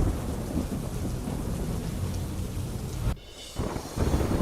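Heavy rain with strong wind roars steadily in Gujarat, with deep rumbling underneath, briefly cutting out before resuming just as loud.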